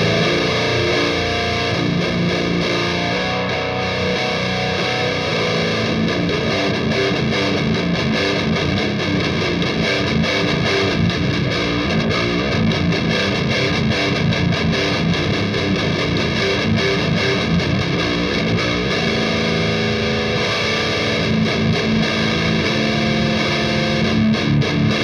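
A low-tuned Ibanez Iceman 7-string guitar in drop A plays heavily distorted, chugging metal riffs through an Orange Super Crush 100 amp alone; the dense, loud tone continues without a break and no one speaks.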